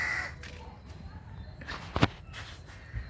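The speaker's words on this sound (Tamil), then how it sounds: "காக்கா கூப்பிடுது" A crow caws once, sharp and fairly near, around the two-second mark against a faint outdoor background with light rustling and footsteps.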